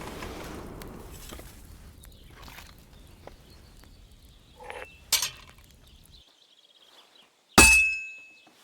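A smith's hammer strikes heated metal on an anvil at a forge in Kingdom Come: Deliverance II, with two separate sharp blows, the last one ringing out clearly, against a quiet background.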